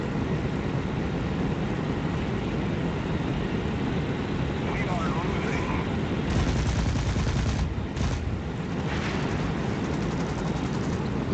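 Bursts of 30mm cannon fire from a Bf 109 fighter in the game War Thunder, loud rapid fusillades over a constant engine drone, with denser volleys in the second half.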